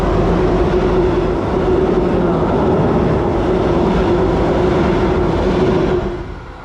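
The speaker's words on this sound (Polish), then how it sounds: "Jedzie pociąg, jedzie pociąg." A steady, heavy rumble of a train rolling over a railway bridge, continuous and fairly loud, fading out at the end.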